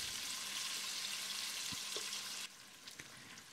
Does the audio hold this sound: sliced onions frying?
yes